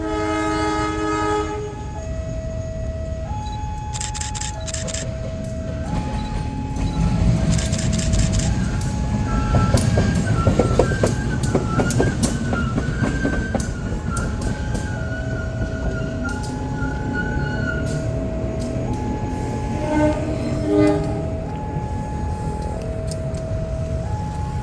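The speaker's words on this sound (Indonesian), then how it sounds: "lokomotif meluncur sendirian pulang dari Purwosari" A locomotive on a Java railway runs alone past the listener, its engine rumbling and rising as it nears, while a two-tone horn or warning signal repeats steadily in alternating high and low notes throughout.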